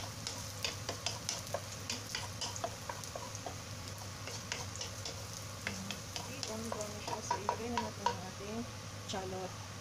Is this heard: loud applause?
no